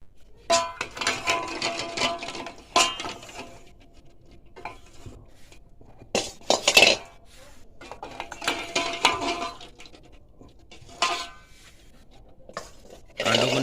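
Hard-boiled eggs are lifted out of a metal pot, giving repeated bright clinks and clatters of utensil against cookware in irregular bursts, with quieter scraping and handling between them, close and with no voices.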